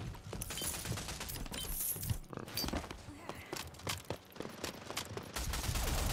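Rapid SMG bursts in an online shooter match, dense clattering shots with mechanical reload clicks, steady and close throughout with brief pauses.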